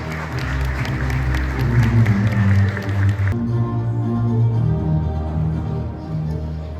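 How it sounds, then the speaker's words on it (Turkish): Audience applause at a Turkish cybersecurity summit, welcoming two speakers onto the stage. A dense, steady wash of clapping fills the hall for several seconds, with music or crowd noise underneath and a shift in texture partway through. "sahneye davet ediyorum. Güçlü alkışlarınızla."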